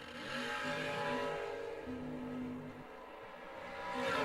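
Drag racing cars, a Chevrolet-sponsored car against a little blue wagon, engines roaring loudly and steadily at a distance, fading briefly before swelling again at the end.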